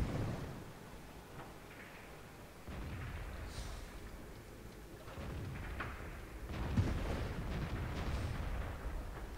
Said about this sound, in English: Somebody's shooting at me already.